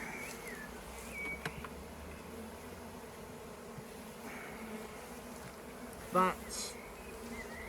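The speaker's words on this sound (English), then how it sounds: "Come on, bees, out the way." Bees buzz close by around an open hive in a busy, steady drone, with individual insects whining past the microphone now and then; a brief word is spoken quietly.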